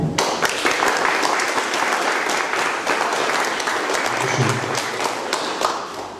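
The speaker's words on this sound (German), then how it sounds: "nochmal ein kleiner Applaus" A hall audience gives sustained applause after a theatre performance, ahead of a panel discussion. Dense, loud clapping from many hands runs unbroken and fairly even, tailing off slightly at the end.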